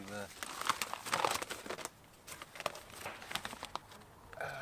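Old newspaper is crumpled, folded and rustled while being wrapped around spinach stalks in a garden, with crinkling bursts through the first two seconds and softer handling noises after.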